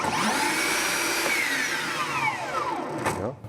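A Bosch GTS 18V-216 cordless table saw runs steadily at close range, a loud continuous motor and blade whine with no talking, winding down near the end.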